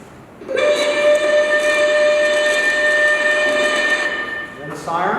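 A lighthouse fog signal steam whistle at Piedras Blancas blows loud and steady for several seconds with rich harmonic tones, then cuts off abruptly.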